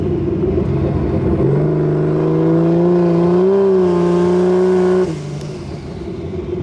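Barra-swapped Ford Mustang GT350 engine pulling under throttle, a loud close droning growl whose pitch climbs steadily then drops sharply on a shift, settling into a lower steady hum.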